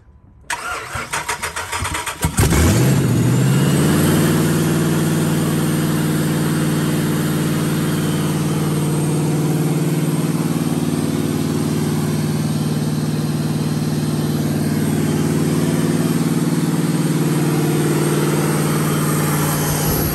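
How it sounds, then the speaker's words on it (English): A car fitted with a newly installed Mishimoto intercooler cranks for a couple of seconds, catches, then settles into a loud, steady idle that runs on close by with no talking. "I have started it a couple times, made sure everything is running properly."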